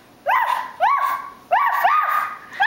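A child imitates a small dog barking, four yappy high-pitched arfs in a steady rhythm, close and loud.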